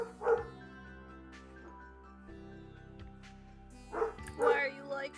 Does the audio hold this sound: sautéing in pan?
no